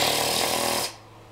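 A voice imitates machine gun fire during a Call of Duty 4: Modern Warfare match on the Pipeline map, giving a loud, steady rattling burst that runs for under a second and then cuts off into quiet.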